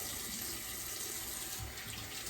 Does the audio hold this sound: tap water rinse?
yes